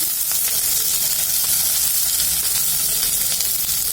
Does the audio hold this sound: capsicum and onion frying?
yes